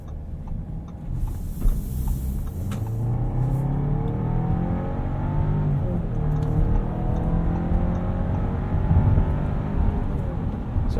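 A 2017 Audi Q7 2.0T Premium Plus SUV in auto mode, heard from inside the cabin as it drives and accelerates. A steady, rising engine drone and road rumble continue for the whole stretch with no talking.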